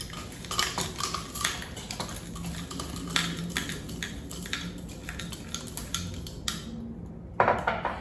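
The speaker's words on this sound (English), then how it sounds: "And then we add some crushed ice." Crushed ice clatters into a mint julep cup over bourbon and simple syrup, a steady run of close, crisp clinks and rattles that ends in a louder final clatter, with no talking.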